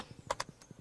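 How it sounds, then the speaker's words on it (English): Horse hooves in the Stardew Valley video game, a quick run of light rhythmic clip-clop steps, soft and close, alongside a couple of brighter clicks. "Oh, the horse can't get through there."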